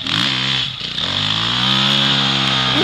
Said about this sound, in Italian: Senti il motore, eh?